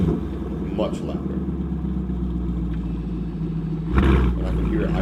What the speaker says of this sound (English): And I can hear it idling there.